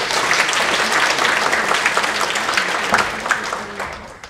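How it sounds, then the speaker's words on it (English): Conference audience applauding panelists at a React talk, dense sustained applause from a room full of people, steady and loud before slowly tapering off. "let's give it a round of applause to our panelists"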